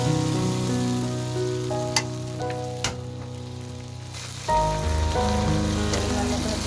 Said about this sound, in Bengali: একটা পেঁয়াজ দিয়ে দিলাম ভালো করে ভেজে নেব